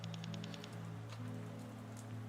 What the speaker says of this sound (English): Some beautiful rain we're having, isn't it?